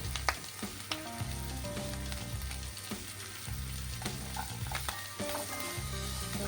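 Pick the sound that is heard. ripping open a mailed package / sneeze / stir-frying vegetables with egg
stir-frying vegetables with egg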